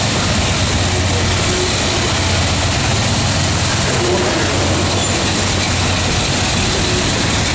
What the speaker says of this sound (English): They mosey their way under the bridge there. going under I-485.